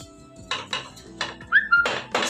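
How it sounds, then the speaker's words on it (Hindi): Cooked chana dal being moved from one pot into another for halwa, a few sharp metal clanks and scrapes of utensils against the vessel, irregular and close, with a brief squeak, no talk. "इसको दूसरे बर्तन में ट्रांसफर कर लेते हैं।"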